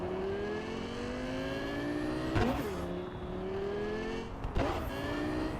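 Car engine revving in Cyberpunk 2077, a steady loud drone with rising pitch that breaks twice into sharp shifts, alone without talk.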